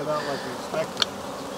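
Honeybees buzz in a brief, close swarm around a beehive, a dense insect hum with a faint voice in the background.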